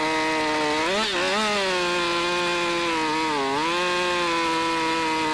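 A chainsaw cuts logs in a lumberjack simulation game, a sustained buzzing whine that dips in pitch twice as the blade bites into the wood, then recovers; no voices.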